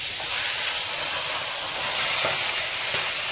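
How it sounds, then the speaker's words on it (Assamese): Fish heads frying in a pan give off a steady, loud hiss and sizzle that runs unbroken throughout, with a few faint clicks and pops. "এয়া মাছৰ মাথাকেইটা ভাজি আছে"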